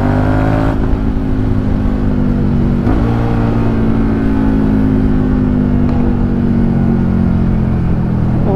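SVT 650x motorcycle with a new aftermarket exhaust, its engine loud and close, rumbling deeply with a few sharp throttle blips that rise and fall in pitch, with no talking.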